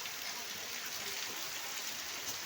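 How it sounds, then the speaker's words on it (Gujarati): Heavy rain pours down over a village, a steady, even hiss of falling water that fills the whole clip at moderate level with no break. "પાછળ દેખાય ફૂલ વરસાદ ચાલુ છે"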